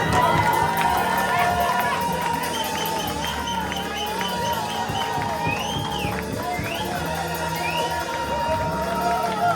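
A church congregation at a Sunday worship service cheers and acclaims Jesus, a sustained crowd roar with whoops and shouts, loud and continuous, with music playing underneath throughout.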